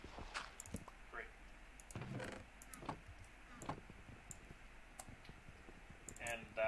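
Fingers typing on a computer keyboard in scattered, uneven bursts of light clicks and taps, fairly close and quiet, with a person talking in between the keystrokes.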